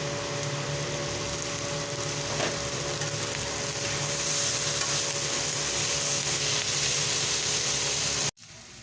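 Onions with salt fry and sizzle in a pan, a steady close hiss with occasional stirring scrapes, continuous until an abrupt cut near the end.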